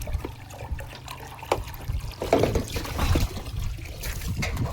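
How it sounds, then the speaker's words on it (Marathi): Water being filled into containers at a house, a steady low trickling and splashing stream running continuously, close and moderately quiet. "तर सध्या आपलं पाणी भरायचं चाललंय"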